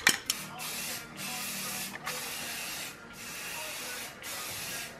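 Aerosol paint spraying from a can: several long, steady hissing bursts separated by brief pauses, close and fairly loud.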